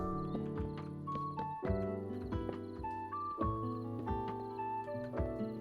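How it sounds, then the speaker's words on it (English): Rhythmic video game horse hoof clip-clops repeat steadily over layered electronic game music, with bright synthetic tones ringing above the beat. "The horse is here."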